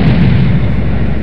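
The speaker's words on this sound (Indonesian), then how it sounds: "tembakan misil yang dijatuhkan oleh pesawat itu pun berhasil menghancurkan banyak tanaman merambat sekaligus" A loud, sustained rumbling blast as missiles fired from fighter jets explode, a deep boom that rolls on continuously with no break.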